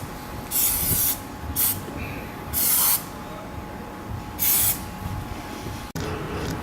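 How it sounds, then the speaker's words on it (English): Rust protection spray hissing out through a straw nozzle into a car door seam and hinges, in four or five short, loud bursts separated by pauses, with a brief clunk near the end. "Okay, I'm spraying the door seam and the hinges."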